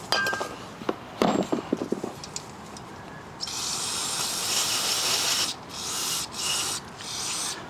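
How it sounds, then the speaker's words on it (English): A few clicks and taps, then a steady loud hiss of an aerosol can of mass airflow sensor cleaner spraying into a Honda Civic sensor in several bursts separated by brief pauses. "You're going to take a can of mass airflow sensor cleaner and you're going to spray in there."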